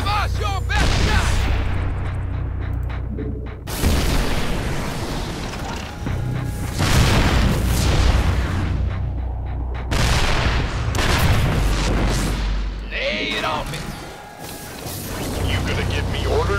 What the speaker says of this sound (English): Let's get some siege tanks deployed on the high ground. They can pound that Protoss Stalker before it even gets close to us.